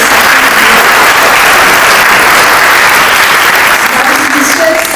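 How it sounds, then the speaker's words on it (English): Loud, sustained applause from a large crowd at a book launch event, dense clapping that continues evenly throughout at close range. "I'd like everybody to give a round of applause to the MCs"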